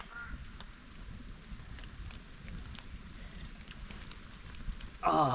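Steady light rain falling during a hailstorm, a soft continuous patter heard alone until a sudden louder burst of noise right at the end.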